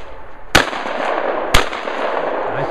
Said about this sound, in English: Nice shooting, Billy.